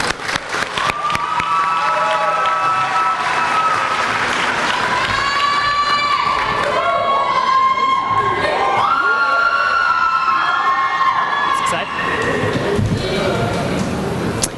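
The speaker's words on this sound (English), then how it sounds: "They're cheering." Graduation ceremony crowd cheers loudly and continuously, with high-pitched shouts, whoops and scattered clapping layered over one another as a graduate is recognized.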